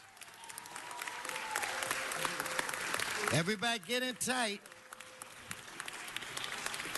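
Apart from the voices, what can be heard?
audience applause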